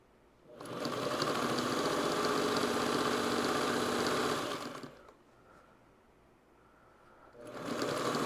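A sewing machine runs steadily for about four seconds with a dense mechanical whir, pauses briefly, then starts stitching again near the end.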